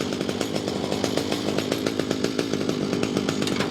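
An Echo gas weed trimmer with a fuel leak runs steadily near idle after being throttled back, its small two-stroke engine putting out a loud, continuous buzzing drone with a rapid pulsing rhythm.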